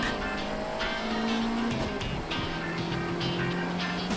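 A Lotus Elise corners on a wet race track, its engine droning steadily with shifting pitch and a brief dip mid-pass, tyre hiss and faint squeal over rushing wind noise, close and continuous.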